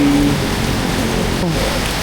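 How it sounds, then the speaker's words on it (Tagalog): Steady, dense rain pouring down in Pampanga, Philippines, a constant hiss and patter close by, with faint talking underneath. "Lakas ng ulan."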